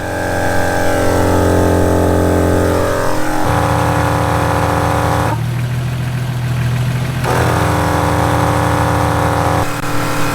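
A MORRflate dual cylinder air compressor runs loud and close with a steady mechanical hum and chugging drone, briefly shifting pitch midway before settling back into its even running note.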